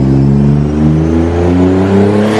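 A twin turbo Nissan 370Z revs hard on a dyno, its engine note climbing steadily in pitch, loud and close with a constant mechanical roar.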